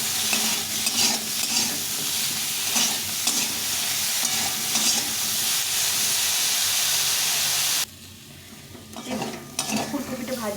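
Cauliflower fries in hot oil with salt and turmeric in a pan, a loud continuous sizzle with stirring scrapes that drops abruptly near the end before brief clattering resumes.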